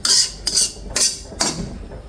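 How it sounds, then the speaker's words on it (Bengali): Four metallic clatters of a lid set and shifted on a cooking pan holding cabbage, evenly spaced and close, with no one talking. "এখন আমি একটা ঢাকনা দিয়ে ঢেকে দিচ্ছি।"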